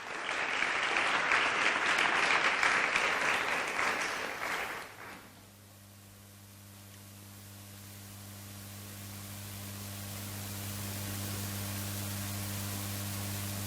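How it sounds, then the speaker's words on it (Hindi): A church congregation claps together in praise during a worship service, a dense, loud burst of applause that lasts about five seconds and then stops abruptly, leaving only a low steady hum. "हम हर एक लोग परमेश्वर के महिमा के लिए ताली बजा के परमेश्वर का धन्यवाद करेंगे।"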